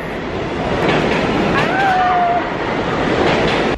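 A New York subway train rumbles along at a steady, loud roar with faint rail squeals rising partway through, continuous and close, with no one speaking.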